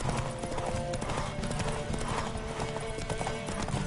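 Rapid, rhythmic clip-clop of galloping horse hooves in a video game, close and loud, running continuously over a busy background.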